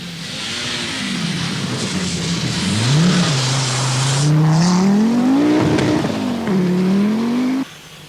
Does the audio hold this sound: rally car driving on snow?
yes